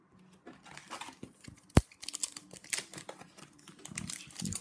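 A hockey trading card pack wrapper for the 2016 KHL Platinum Collection is torn and crinkled open, with a sharp rip partway through and soft rustling plastic handling before and after.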